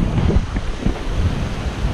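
Cool wind gusts across a beach on Bruny Island, Tasmania, buffeting the microphone in low, uneven rumbling bursts with no voices.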